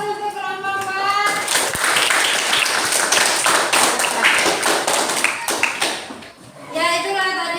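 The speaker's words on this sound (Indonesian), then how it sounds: "aplaus untuk kelompok 4" A classroom bursts into sustained, loud clapping for a group that has just presented, with voices talking briefly before and after the applause.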